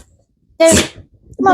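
A single sharp sneeze bursts out close and loud, followed by a brief spoken voice.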